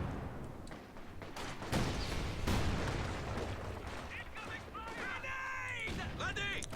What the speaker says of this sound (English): Mortars really proving their worth.